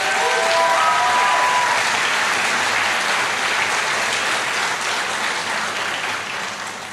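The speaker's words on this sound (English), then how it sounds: "Let's give Dr. Scott one more 4-H round of applause." An audience at a 4-H awards of excellence ceremony gives a sustained round of applause, loud and dense at first and slowly tapering off, with a faint whistle near the start.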